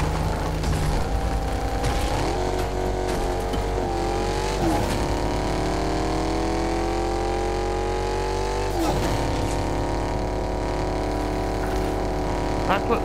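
Car engine in Fortnite, a steady loud drone across the whole stretch with rising and falling revs as the driver accelerates and shifts, while a player talks over it.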